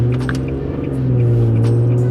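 An Infiniti G37 sedan on an E85 tune pulls hard in third gear from about 2000 RPM, its engine droning loud and steady and rising slowly in pitch, heard from inside with no talking.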